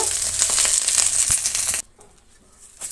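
Curry leaves frying in hot oil in a pan for a curry leaf chutney, giving a loud, crackling sizzle with stirring scrapes that cuts off abruptly partway, leaving quiet background.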